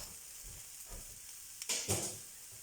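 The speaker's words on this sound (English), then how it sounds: "I'm in a rush, so I'm going to fry it instead" Food frying in a frying pan sizzles with a steady hiss, soft stirring scrapes early on and two louder bursts of spitting sizzle near the end, close and moderately loud.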